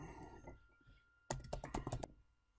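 Short burst of keyboard typing on a computer, a quick run of distinct clicky keystrokes after a quiet stretch, fairly close and alone without talk.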